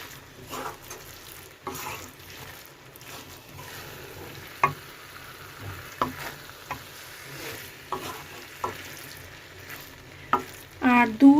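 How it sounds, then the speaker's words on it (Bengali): Banana flower and prawns tossed with ghee in a pan, a soft low sizzle under irregular scraping and clinking stirs, growing busier toward the end. "এবার আমি এতে ঘি দিয়ে দেব। এবার এটাকে মাখিয়ে নেব, মানে মিশিয়ে নেব এর মধ্যে পুরো।"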